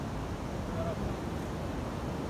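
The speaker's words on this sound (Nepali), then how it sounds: "त्यो खोला कराकोले गर्दाखेरि मेरो आवाज सुनिरहेको छ या छैन" Rushing river at Jogighat sends a steady, broadband roar of churning water, continuous and fairly close, with no breaks across the short stretch.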